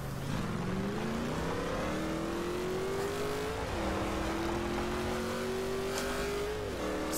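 A beastly truck's engine revs in the racing game Forza Horizon 2, a loud continuous drone whose pitch climbs steadily, dips briefly, then climbs again, with no talking.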